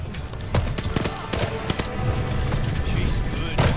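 Rapid bursts of gunfire from the World War II shooter Call of Duty: Vanguard, with sharp repeated cracks and steady automatic fire running under excited talking.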